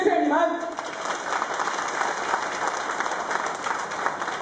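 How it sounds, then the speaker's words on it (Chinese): A political rally crowd applauds steadily, a dense, continuous patter of many hands clapping that holds at an even level. It begins under the tail of a speaking voice. "我们在场的每一位支持者呢，都是自愿拍掌给予行动党支持的"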